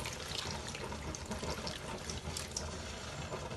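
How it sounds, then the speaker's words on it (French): Water poured from a tap or jug into a cooking pot while preparing pondu ya limbondo: a brief, steady splashing trickle, close and fairly quiet, with no talking. "on va mettre un peu d'eau, pas beaucoup."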